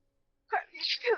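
A single sneeze, sharp and close, with a quick intake of breath before it, in an otherwise quiet room.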